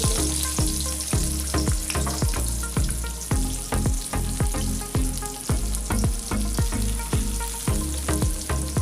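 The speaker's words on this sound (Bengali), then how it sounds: "তেলের মধ্যে তারপর দিয়ে দেব কেটে রাখা পেঁয়াজ" Chopped onions fry loudly in hot oil after cumin seeds, a steady dense sizzle broken by regular scraping strokes as they are stirred, with no talking.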